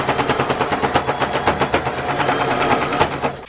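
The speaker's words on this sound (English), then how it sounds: "I'm just going to sew a little over this dart and then leave this spot open." Sewing machine running a steady stitch over a dart in fabric for a bowl cozy, a dense rapid mechanical chatter that stays loud and close for the whole stretch with no voices.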